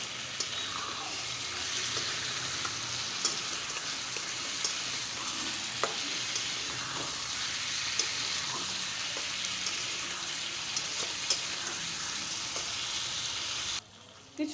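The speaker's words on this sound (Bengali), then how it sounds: "তাই জন্য আমি এই মশলার মধ্যে দিয়ে কিন্তু চিংড়ি মাছগুলো ভালো করে কষিয়ে নেবো।" Tiger prawns frying in a spice masala for a prawn kalia, a dense, continuous sizzle and hiss with faint occasional spoon scrapes, cutting out briefly near the end.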